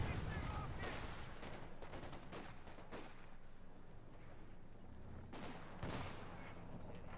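Bren gun and sniper rifle fire in a video game: several bursts and single cracks come in quick clusters at a distance, fairly quiet, with lulls between them.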